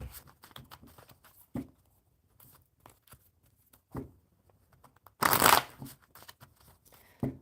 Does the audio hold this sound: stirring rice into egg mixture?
no